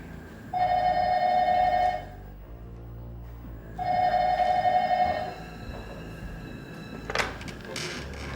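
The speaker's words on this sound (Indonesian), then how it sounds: "Pak, ada telepon." Telephone ringing indoors in two clear, evenly spaced rings, each lasting about a second and a half with a pause between, followed by brief clatter as someone picks up.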